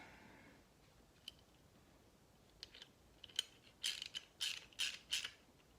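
Several quick ratcheting clicks, close and crisp, from a ratchet being turned on a part from a 1936 Ford Fordor, sparse at first and then a denser run of loud bursts.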